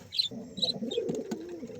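A sick pet pigeon coos softly in low, rounded notes close by, with a few faint, higher chirps above it and no speech.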